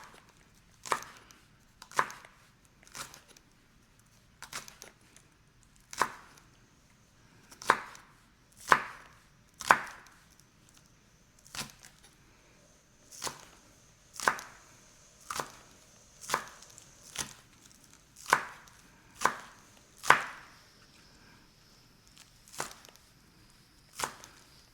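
Knife slicing chicken thinly on a cutting board for cashew chicken: a long run of crisp, close chops at a slightly uneven pace, each a sharp tap against the board, with quiet pauses between.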